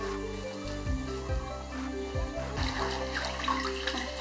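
Freshly picked loquat leaves being washed in water: close splashing and sloshing with soft dull knocks and a steady trickling wash, no talk.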